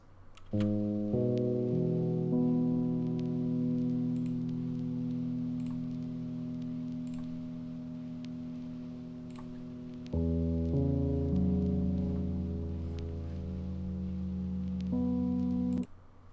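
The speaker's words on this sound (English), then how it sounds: "I use the cinematic piano for the bass notes, and then I use the Rhodes for the top notes" Lofi chords ring out on a cinematic piano carrying the bass notes and a Rhodes on top, two long sustained chord changes with faint ticking crackle beneath, mellow and alone without talk.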